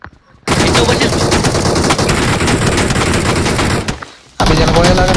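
Dense, continuous gunfire in PUBG Mobile, loud and sustained bursts of shots close by, with a brief lull near the end before the firing resumes; voices talk over it.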